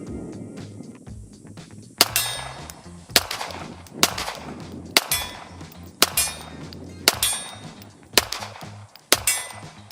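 Beretta M92A1 pistol firing Tula 9mm steel-case ammunition outdoors: eight sharp, loud shots spaced about a second apart, each a bright crack with a short ringing tail and some background noise between.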